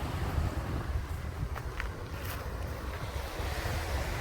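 Ocean waves wash on a beach on the north side of Flores, a steady rolling surf roar with wind buffeting the microphone, continuous and fairly loud throughout, with no voices.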